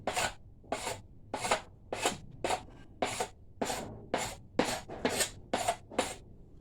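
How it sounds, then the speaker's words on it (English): Burr scraper strokes across a hickory self bow, about a dozen short rasping scrapes in a steady rhythm, close and fairly quiet with no speech. "that's the good thing about the little burr scraper. You really don't catch the grain very much."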